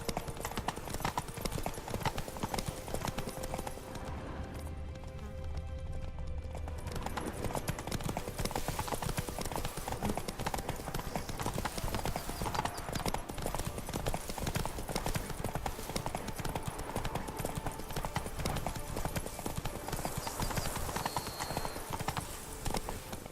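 A horse's hooves clip-clop at a steady walking pace in The Witcher 3: Blood and Wine, close and continuous for most of the clip, with a brief lull and ambient outdoor game sound around it.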